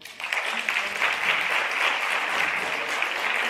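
Audience at a French stand-up comedy show applauds steadily for several seconds, a dense, even wash of clapping filling the room with a faint voice underneath.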